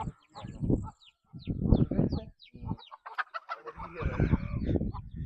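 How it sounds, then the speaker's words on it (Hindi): Chickens cluck and chicks peep in short bursts nearby, with a person talking intermittently among the birds. "ये जी चूजे भी हैं इसमें तो"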